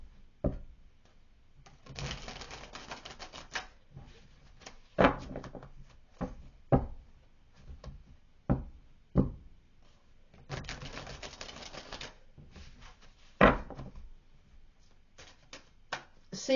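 Tarot cards shuffled and drawn by hand at a table, a run of close, crisp riffling bursts and soft slaps repeating in uneven clusters, with quiet pauses between.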